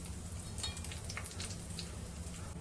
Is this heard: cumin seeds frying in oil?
yes